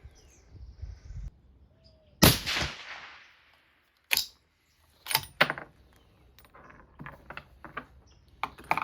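Rifle shots from a 7mm SAUM firing 165-grain tipped Game King bullets, with a few sharp, loud cracks spaced seconds apart, each followed by a short decaying echo, and small clicks and handling noises between them.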